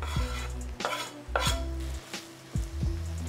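Sliced chestnut mushrooms frying in a pan, with a soft sizzle under repeated scraping and clinking strokes of a utensil against the pan, close and moderately quiet.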